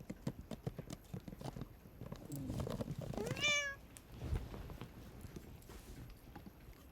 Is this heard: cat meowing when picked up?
yes